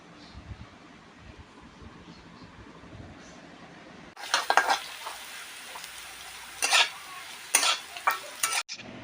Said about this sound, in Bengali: আমি আগে আলুগুলো ভাজা করে তুলে নেব।